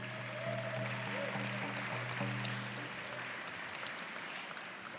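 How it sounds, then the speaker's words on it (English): Distant clapping from a crowd at an Indigenous graduation celebration, soft and steady throughout, with a faint held musical tone underneath in the first half. "a big round of applause too"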